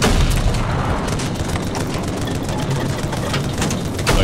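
Explosive booms and heavy gunfire in Battlefield 2042 as a tank takes hits, loud dense blasts and rattling fire continuing throughout with engine rumble beneath.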